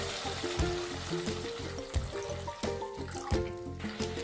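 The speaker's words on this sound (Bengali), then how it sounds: "মশলাটা কষানো হয়ে গেছে, এখন জল দিয়ে দেব।" Frying mustard-paste masala for a Bengali pabda fish oil curry sizzles steadily in the pan as water is poured in, with a soft trickle and bubbling over continuous close, moderately quiet crackling.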